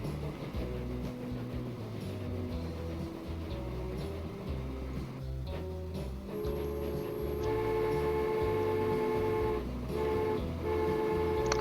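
A train rolls along a steel bridge line in the Transport Fever game, a steady rumbling run with clacking wheels and a sustained horn-like tone that grows louder in the second half, with no talking.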